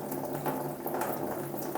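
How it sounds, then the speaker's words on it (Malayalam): Water pouring into a mini portable washing machine with a dryer, a steady close rushing and bubbling fill that runs without a break, with no talking. "നമ്മളെ വാഷിംഗ് മെഷീനിലേക്ക് വെള്ളം കയറുന്നുണ്ട്"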